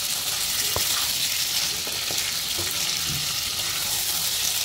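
Chicken liver with green chilies fries in a hot pan, giving a continuous busy sizzle with a few soft clinks from stirring, and no one speaking.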